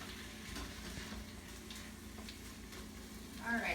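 Minced garlic frying in an Instant Pot on sauté, a faint, steady low sizzle with soft stirring scrapes, quiet and continuous.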